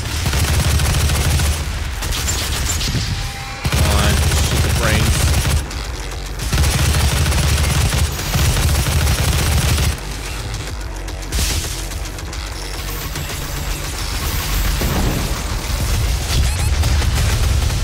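Loud, sustained gunfire rips through Doom combat in heavy overlapping bursts with brief lulls, accompanied by booming impacts throughout.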